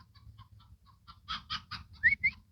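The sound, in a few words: chicken clucking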